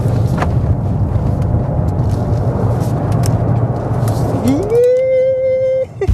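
A new BMW i5 electric car driving in sport mode, a steady road and wind rumble inside the cabin, then a synthetic drive tone that rises smoothly in pitch and holds as it accelerates before cutting off.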